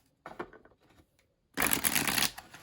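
Oracle cards, a 36-card deck of larger-size cards, are riffled and shuffled close by: a short soft flutter, a pause, then a louder, longer rapid riffle.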